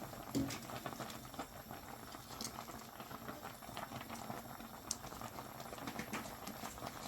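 Vegetable soup with pechay boiling in a pot, a quiet, continuous bubbling and light pattering with a faint background hum, close but soft and with no talk.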